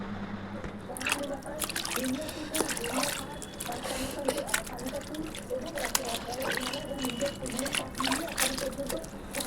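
Running water trickles and splashes while household items are washed, a close, steady flow with intermittent drips and splatters, with a voice talking over it.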